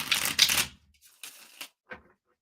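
A deck of tarot cards is shuffled close by: a dense papery riffle, then two shorter card flutters and a final quick snap, with quiet gaps between them.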